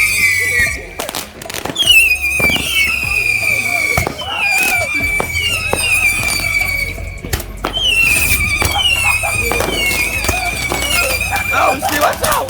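Fireworks fly back and forth in a backyard fireworks war, with repeated whistling rockets and sharp bangs and crackles overlapping. Voices shout and react in the background.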